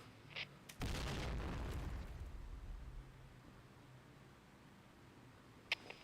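A single grenade explosion in a video game: a sudden loud boom that rolls out into a fading rumble over about a second, followed by quieter background noise and a sharp click near the end.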